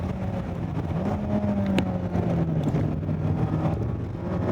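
Mazda Miata ND3 driving on a race track, engine drone with a shifting tone under heavy wind noise, steady and loud from inside the car.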